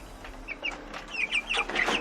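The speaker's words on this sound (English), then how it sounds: "So we see the chickens. Right, they are right inside their cage." Several Cornish Cross chickens cluck and squawk in a cage in quick, overlapping bursts nearby, with a faint steady hum underneath.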